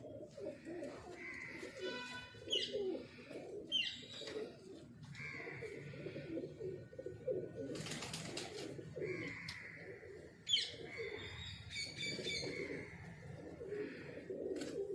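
Domestic pigeons of the Gajra breed, a male and a female, coo repeatedly at close range in a low, rolling rhythm, with chirps and other bird calls scattered through the background.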